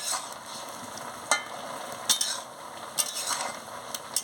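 Soybean chunks with half-boiled papaya and potato stirred in a pan, a soft continuous sizzle with intermittent clinks and scrapes of a spoon on the pan.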